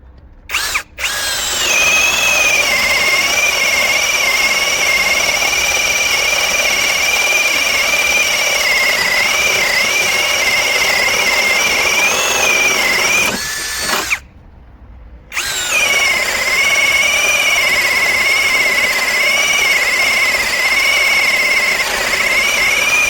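A Grosser GCD 520Q cordless drill-driver runs close by with a loud, steady high whine, cutting out briefly just after it starts and again midway before spinning up again.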